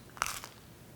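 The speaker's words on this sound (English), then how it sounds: "I'm going to eat a little bite so that maybe you can hear the crunch." A single crisp crunch as a bite is taken from a gluten-free pizza crust, close and sharp, with a short crackle of chewing trailing off into near silence.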